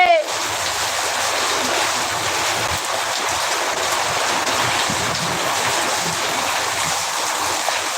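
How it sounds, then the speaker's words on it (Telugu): Heavy rain whipped by strong wind pours in a constant, loud wash of noise that barely changes across the whole stretch, with no voices. "గాలి అయితే బీభత్సంగా తోలుతా ఉంది గాలి వాన అన్ని కలిసి వచ్చేసి"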